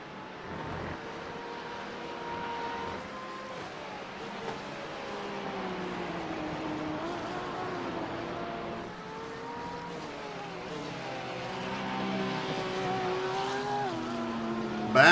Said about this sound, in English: Back on the power, down the hill into the Nordschleife, and Adam Barker still trying to close back